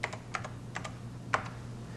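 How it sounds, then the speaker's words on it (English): A few quick keystrokes on a computer keyboard, clicking in short bunches and then a single harder tap, set against a low steady hum with no speech. "we'll just type the first few letters of the brand name and press enter"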